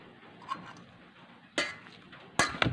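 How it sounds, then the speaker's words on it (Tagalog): A papaya salad seasoned with Himalayan salt and lemon is mixed in a bowl, giving faint, sparse clinks and scrapes of a utensil against the dish. A few sharper knocks stand out against a quiet background. "Tapos, ang kailangan ko ay haluin siya."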